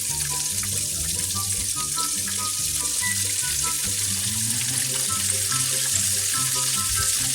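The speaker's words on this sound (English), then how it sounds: "So while that's frying" Pork chops frying in a pan with onions nearby, a steady broadband sizzle and crackle running throughout, close and fairly loud, with a low rhythmic hum underneath and no talking.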